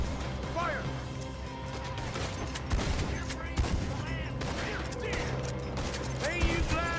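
Red Dead Redemption 2 gunfire crackles during a battle, with scattered shots and a rattling mechanical clatter layered over busy game ambience, and voices call out intermittently.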